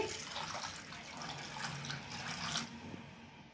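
Water pours steadily into a pressure cooker holding soaked chickpeas, a continuous splashing stream heard close and alone for a few seconds.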